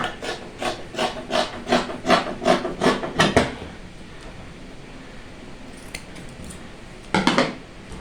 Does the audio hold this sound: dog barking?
no